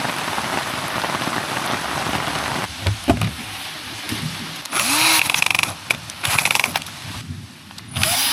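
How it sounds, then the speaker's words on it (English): Heavy rain during a thunderstorm drums steadily on a roofless recycled pallet-wood tree house, a dense close patter with a few louder bursts and clatters partway through. "But we need the rain."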